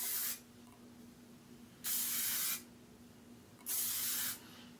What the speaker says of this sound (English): I use another heat protectant. I'm just gonna spray it all over.